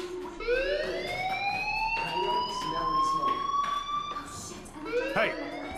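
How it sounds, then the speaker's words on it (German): A rising, steady electronic fire alarm tone rings inside the Life is Strange video game, holding a loud sustained whine with harmonics for several seconds before a brief second sweep near the end. "Hey, do you hear that fire alarm?"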